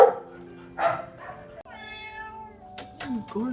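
A cat at a pet hotel meows loudly several times at close range, its drawn-out harmonic cries rising and falling between short pauses.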